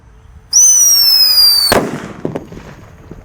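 A Whistling Thunder firework shrieks with a loud rising-then-falling whistle for about a second, then ends in a sharp explosive bang followed by fading crackles and distant pops.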